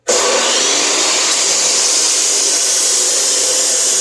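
A chop saw cuts through metal pipe for a Christmas tree stand with a loud, steady high-pitched grinding whine that starts abruptly and holds constant throughout, close up.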